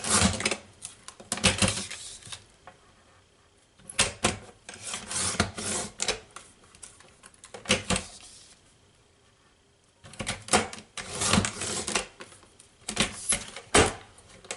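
A paper picture has its white edges trimmed away in repeated rasping, scraping strokes. The strokes come in separate bursts a few seconds long with quiet gaps between them, heard close up.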